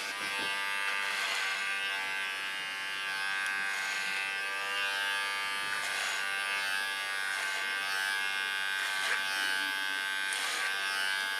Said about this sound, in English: and then take it off with the clipper